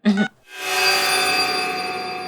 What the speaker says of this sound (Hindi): ये देखो चेतना का फोन